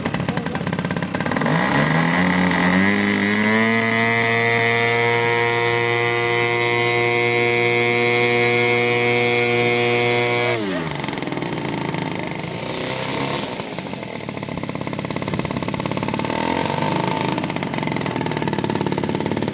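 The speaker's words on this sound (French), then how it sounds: "Démarrage au quart de tour." A T 240 engine fires up and rises quickly to a steady, loud running tone with strong harmonics, holds for several seconds, then drops abruptly and continues as a rougher, lower rumble to the end.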